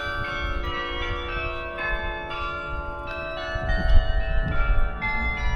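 Church bells peal from a bell tower, many overlapping ringing tones sustained throughout, swelling louder toward the end.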